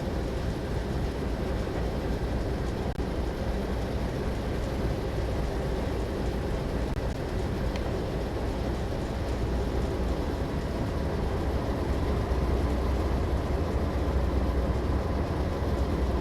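A train locomotive climbs a grade on a Pacific Northwest route, its engine producing a steady, dense rumbling roar that holds constant throughout, with no talk.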